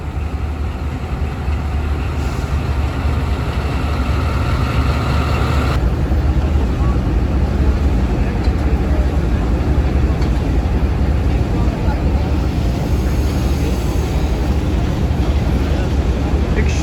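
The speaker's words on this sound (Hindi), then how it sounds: "Tezgam is departing for its journey." Tezgam Express passenger train pulling out of Lahore Junction, a loud continuous low rumble of locomotive and rolling carriages close by, with station noise and voices over it.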